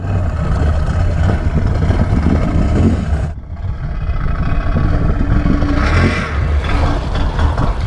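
A Can-Am Renegade ATV revs hard in a Florida swamp, a loud, rough engine roar pushing through mud and water with sloshing clatter and one brief dip in the middle, and no speech.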